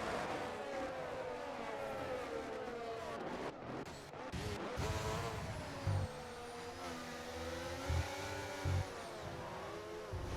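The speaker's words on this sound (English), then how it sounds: "You can hear the brakes squealing. The tires just locking up slightly there." Brakes squeal and tires briefly lock up on a racing car in a Singapore circuit video game race, a tonal whine over steady engine drone with a few short thumps near the end.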